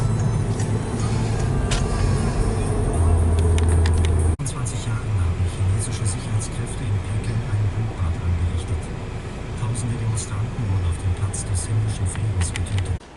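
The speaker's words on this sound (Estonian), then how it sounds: "Saime siis auto nüüd siia parklasse Max Josef platsi alla" A car driving slowly into an underground parking garage beneath Max-Joseph-Platz, its steady low engine rumble loud and enclosed throughout, with a brief shift in tone midway and a faint voice murmuring under it.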